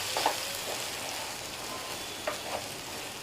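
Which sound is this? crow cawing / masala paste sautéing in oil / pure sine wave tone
masala paste sautéing in oil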